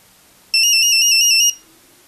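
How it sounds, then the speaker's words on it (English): The Nokia 3310 Mosquito ringtone, a high, buzzing electronic tone with rapid pulsing beeps, plays loudly for about a second, then stops abruptly. "the 3310 had some of the most legendary ringtones the world has ever heard."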